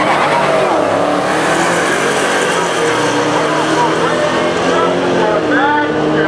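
Ford Mustang and an 840-horsepower wide-body Dodge Challenger launch side by side at a drag strip, engines roaring loud and steady with tire noise throughout, crowd and announcer sounds mixed underneath.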